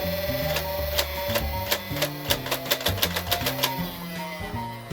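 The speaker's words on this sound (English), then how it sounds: "Hold down the rev trigger, and you can fire away." A Nerf Elite 2.0 Doublepunch blaster's flywheels whir steadily as it revs, then a rapid run of mechanical clacks rings out as darts fire one after another, close up with a constant motor hum underneath.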